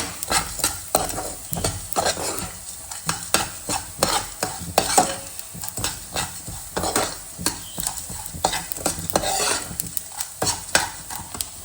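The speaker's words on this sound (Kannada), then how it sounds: "ಇಷ್ಟೇ ಒಂದು 3 ಮಿನಿಟ್ಸ್ ಅಷ್ಟು ಫ್ರೈ ಮಾಡ್ಕೊಂಡು ಸಾಕು." Spices fry and get stirred in a pan for temple-style Melukote puliyogare. The spoon scrapes again and again in a steady rhythm over a constant sizzle. No one speaks.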